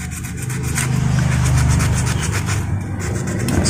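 Rhythmic back-and-forth scratching of sandpaper rubbing a lamp's circuit board, close and steady over a low background hum, with no talking.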